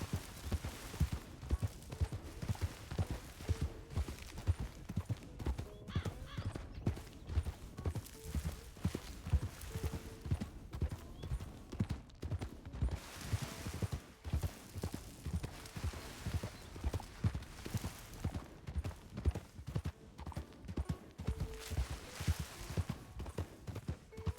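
Horses' hooves clip-clop steadily at a walking pace in a desert video game, the repeated thuds loud and close with an occasional whinny, and no one talks over them.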